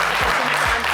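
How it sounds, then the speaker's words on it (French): Applause from the studio audience of the French game show Le Coffre Magic fills a brief moment, dense and steady throughout, with faint low vocal tones beneath. "On va applaudir très très fort Descastels et Sylvanus."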